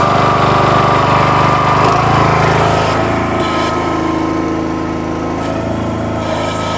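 Small tractor engine running at high throttle while a Nortrac backhoe digs with a 12-inch bucket and ripper, a loud steady buzzing drone that drops in pitch partway through as the load changes, with no talk.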